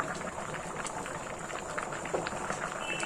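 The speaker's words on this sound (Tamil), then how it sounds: "நல்லா கொதிக்கட்டும்" Water bubbles and simmers steadily in a pot while cooking coconut milk paneer pulao, a soft continuous gurgling hiss with scattered pops, fairly quiet and without voices.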